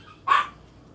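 A single short dog bark, one sharp yip rising briefly out of a quiet background.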